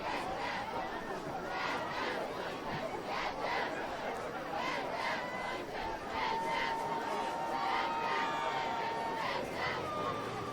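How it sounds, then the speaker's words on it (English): Cheshire supporters at a high school football game cheer and shout from the far side of the field, a continuous distant crowd roar with rising yells and chatter, while a nearby voice talks over it. "If you hear any cheering tonight, it is from Cheshire, from the other side of the field that our microphone is picking up."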